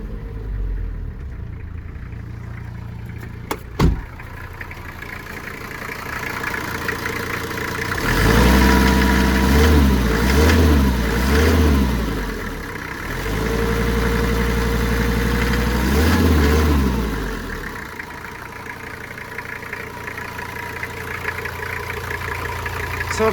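Toyota 1PZ diesel swapped into a Land Cruiser LJ70 idling close by, a steady low rumble that swells with two longer rises in revs before settling back to idle after a brief knock at the start.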